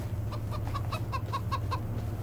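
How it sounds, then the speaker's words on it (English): Chickens in a coop in Farming Simulator 25 cluck in a quick series of short, repeated calls over a steady low hum, with no talking. "We've got 25 chickens in here right now,"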